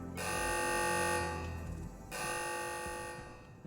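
A loud, sustained electronic alarm sounds in the video game Stationeers: a bright, buzzing tone that stops briefly and then resumes, with no talking over it.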